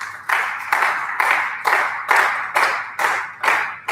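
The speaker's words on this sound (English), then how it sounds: "I would really appreciate it if you guys give a round of applause" Slow, evenly spaced clapping, about two claps a second, rings out crisply in a quiet hall at an in-person education kickoff event, each clap standing alone with no talk over it.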